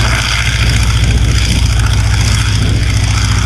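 A vintage Waco propeller biplane takes off from Little Granston, its engine a loud, steady drone with a deep rumble holding at full volume throughout, alone and close.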